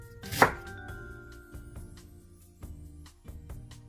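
A knife chops vegetables into strips on a board, starting with one loud, close cut and followed by a run of lighter, irregular taps.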